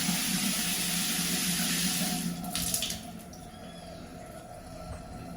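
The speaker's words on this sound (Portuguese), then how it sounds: "Ó a água descendo." Water poured onto new bathroom floor tiles during a renovation rushes and splashes in a steady, broad wash, then drops to a quieter trickle as it flows toward the drain, close and continuous with no voices.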